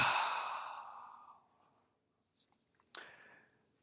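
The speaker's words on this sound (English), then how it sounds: "taking a deep breath in, inhale. And release." One long, close breathy exhale fading out over a second and a half, followed by quiet with a couple of faint clicks and a brief soft rustle.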